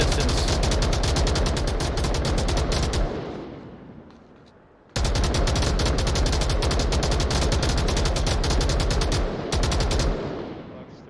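Sustained PKM machine gun fire from a distance in the VR shooter Onward, long continuous bursts that cut off, pause briefly, then resume loud and steady with a short gap before tapering away.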